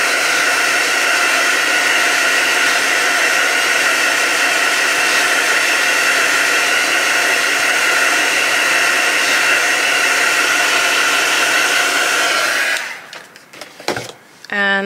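A handheld hair dryer blows steadily and loudly over a collage journal page of book pages and rice paper, a constant whooshing drone that holds for about twelve seconds before switching off, leaving a few faint handling noises.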